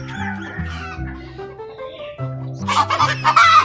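A chicken clucks and squawks nearby, a series of short calls rising into louder, harsher cackling toward the end.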